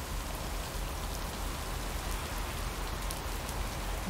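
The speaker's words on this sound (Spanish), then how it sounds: "Qué relax la lluvia." Rain falling in the video game Lake, a steady, even hiss of dense drops pattering on surfaces with no pauses and nothing else heard over it.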